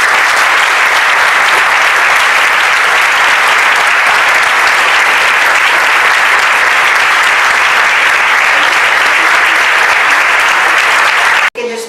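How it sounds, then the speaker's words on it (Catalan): Loud, sustained applause from an audience at a book presentation in Tarragona, dense even clapping that holds for about twelve seconds before cutting off abruptly. "Sisplau, un aplaudiment."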